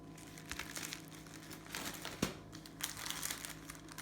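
Tissue paper for a baby diaper cake crinkles and rustles as it is handled nearby, with irregular crisp bursts and one sharper crackle partway through.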